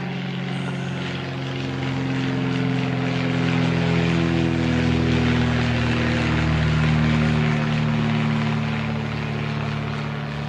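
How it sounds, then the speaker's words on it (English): A propeller float plane flying overhead on its way to carry fishing parties to remote lakes, a loud sustained engine drone with steady harmonic hum that swells and slowly fades. "Float planes, taking fishing parties out to remote lakes."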